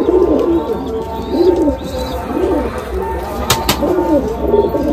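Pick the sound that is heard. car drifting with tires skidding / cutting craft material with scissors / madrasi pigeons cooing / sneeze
madrasi pigeons cooing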